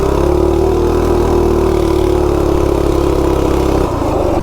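A Coleman RSV minibike with a stock-internal 196cc engine, Coso carb and header pipe, revs hard under acceleration, a loud close continuous buzzing drone rising in pitch before briefly easing.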